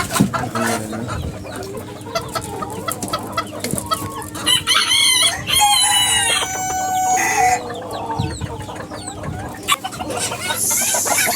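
Malaysian short Serama chickens, two roosters and two hens, cluck busily and crow repeatedly, close by, with calls overlapping in an uneven rhythm.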